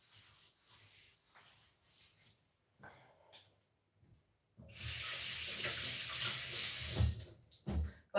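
Water running from a kitchen tap for mushroom soup, a loud steady splashing gush starting after quiet rustling, then a short trickle near the end.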